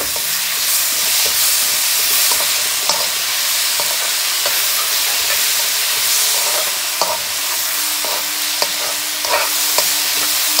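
Duck pieces for Kerala-style curry are sautéed in a pan with a loud, continuous sizzle. Frequent sharp clicks and scrapes of a spoon stirring against the pan run through it, and nobody speaks.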